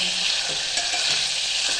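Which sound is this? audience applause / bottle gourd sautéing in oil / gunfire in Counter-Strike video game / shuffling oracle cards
bottle gourd sautéing in oil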